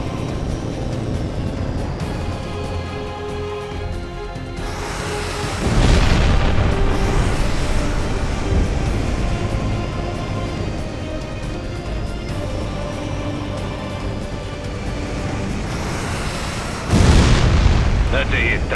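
Explosions of destroyed targets in the HAWX 2 jet combat game, heavy booms bursting over a constant aircraft engine roar and game music, with a second big blast near the end and brief radio-style voices in between.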